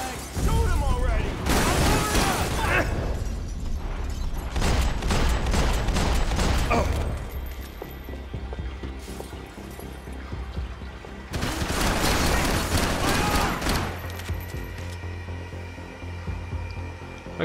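Bursts of automatic gunfire in Max Payne 3, heavy volleys around the start and again mid-clip, with quieter stretches between under game sounds and voices talking.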